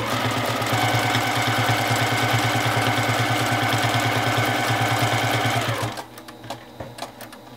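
Sewing machine stitching a quilt block during free-motion quilting with light purple thread, a steady rapid mechanical hum running continuously for about six seconds, then stopping abruptly, followed by a few faint clicks as the block is repositioned.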